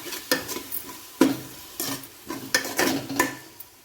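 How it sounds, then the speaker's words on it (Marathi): Green chillies sauté with cumin, garlic and ginger in a pan for a mixed vegetable dish. A spatula scrapes and stirs in short rhythmic strokes over a soft sizzle, close up. "व्यवस्थित मिरची परतायची."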